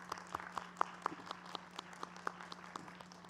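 Outdoor graduation ceremony crowd clapping, thin and scattered with distinct individual claps in an irregular rhythm, fairly distant and quiet over a steady low hum.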